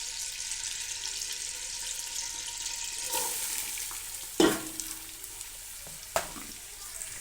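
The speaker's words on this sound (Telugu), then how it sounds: "ఇదిగోండి, ఆయిల్ వేడెక్కింది. ఇప్పుడు ఇందులో ఉల్లిపాయ ముక్కలు వేసేసుకుందామండి." Onion pieces frying in hot oil in a pan, a steady hiss that swells into louder sizzling, with a few sharp utensil knocks and scrapes up close.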